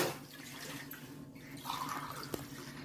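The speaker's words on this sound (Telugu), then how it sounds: "వాటర్ అయితే పోసుకుంటుంది మా మమ్మీ." Water poured from a container into a cooking pot at home, a faint, soft trickle and splash with no talking.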